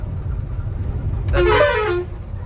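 A single short car horn honk, close and clear, lasting under a second against quiet background rumble.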